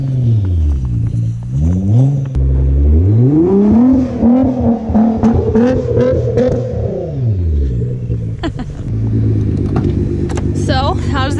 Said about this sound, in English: that's it for drifting the GTR or sliding GTR